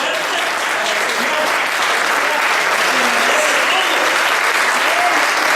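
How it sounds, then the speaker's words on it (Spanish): A church congregation breaks into loud, sustained applause, a dense wash of many hands clapping together that holds steady throughout. "Y yo pido un aplauso fuerte."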